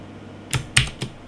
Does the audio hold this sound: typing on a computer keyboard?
yes